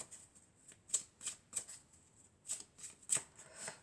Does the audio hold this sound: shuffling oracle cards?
yes